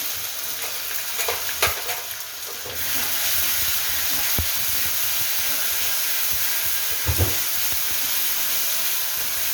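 Green chilli, ginger and garlic paste hitting hot oil with mustard seeds, a loud steady sizzle that swells after a few seconds, with occasional spoon knocks and scrapes against the pan, no talking.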